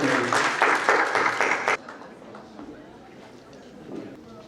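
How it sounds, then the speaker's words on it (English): Applause from an audience at an inspirational speech competition, a loud burst of clapping that cuts off sharply after under two seconds and leaves quiet room noise. "Give a round of applause to Sri Kumar."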